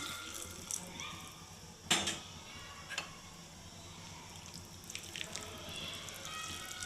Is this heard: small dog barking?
no